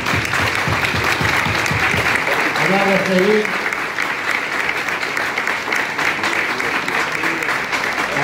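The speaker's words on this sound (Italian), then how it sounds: "quindi un applauso meritato a tutti loro" An outdoor crowd applauds the railway workers at the opening of the newly electrified Conegliano–Belluno rail line, with steady, continuous clapping throughout and a voice speaking briefly over it.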